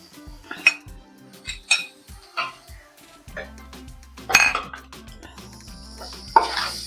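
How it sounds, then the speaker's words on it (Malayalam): Cooking clatter from a pan of fried chillies and onion as egg goes in: several sharp metallic clinks and scrapes of a utensil against the pan, then a louder burst of sizzle near the end, close and clear. "ഇതിലേക്ക് മുട്ട ഒഴിച്ചു കൊടുക്കാം."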